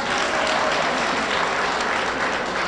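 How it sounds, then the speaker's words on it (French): Dense, sustained applause from a crowd at an Ivorian political campaign launch rally for Alassane Ouattara in the USA, a steady wash of many hands clapping loudly throughout with no pauses. "On applaudit très fort, s'il vous plaît."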